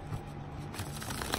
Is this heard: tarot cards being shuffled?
yes